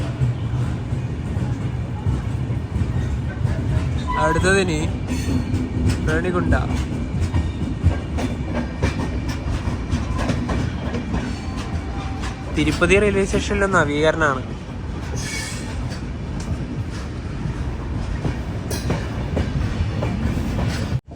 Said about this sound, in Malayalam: തിരുപ്പതിയിൽ നിന്ന് അങ്ങനെ ഇതാ ട്രെയിൻ എടുത്തിരിക്കുകയാണ്